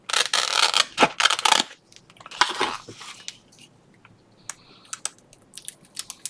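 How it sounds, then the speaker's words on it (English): Scissors snip through a paper flag embellishment for a stacked paper-clip craft, a burst of crisp crunchy cuts up close, then a few scattered lighter snips and paper handling. "And let's cut this one."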